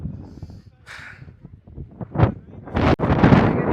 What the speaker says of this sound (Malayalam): ടോപ്പിൽ നല്ല രീതിയിൽ കാറ്റും നല്ല കോടയുണ്ട്.